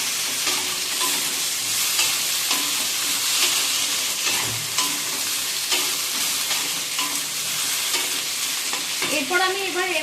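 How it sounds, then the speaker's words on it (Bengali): Ginger paste fries in a pan for Bengali dudh shukto with a steady loud sizzle, and a spoon scrapes and stirs it in repeated strokes throughout. "এবার আমি এর মধ্যে অ্যাড করে দেব আদা বাটাটা। সেটা দিয়ে একটু ভালো করে নাড়িয়ে চাড়িয়ে নেব।"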